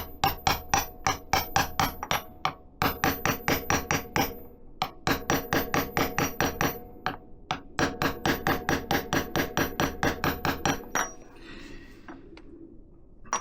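A 46mm socket is hammered again and again to tap a crankshaft oil seal into place on a Benelli. Close, sharp metallic knocks come in quick rhythmic bursts and then stop, leaving quiet.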